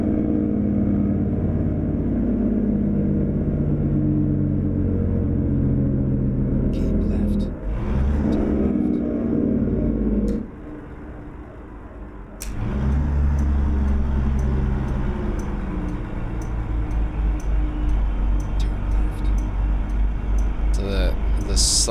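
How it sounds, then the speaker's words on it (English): Mack R semi truck with a 300hp engine climbing a hill in American Truck Simulator, a steady loud diesel drone with gear changes and a brief drop, then power builds and the turbo whistles and spools up, with someone talking over it. "as I start to squeeze in a little more power to try and keep the speed going up the hill, you hear the turbo kind of start to spool up"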